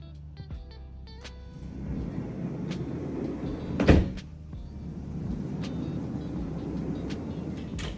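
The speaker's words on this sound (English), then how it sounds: "I'm gonna go ahead and close this door" A door at home swings shut with one solid thud partway through, after some creaks and clicks from handling it, set against low room noise with no talking.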